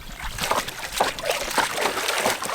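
A dog named Rufus splashes and sloshes through muddy water in a series of irregular close splashes, moderately loud and with no voices over them.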